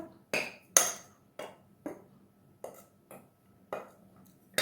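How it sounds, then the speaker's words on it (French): Almond cake dough for Algerian m'khabez being mixed in a bowl, heard as about nine sharp utensil clinks and scrapes against the bowl at a steady, unhurried rhythm, close and moderately loud with no talking. "Et je continue à mélanger."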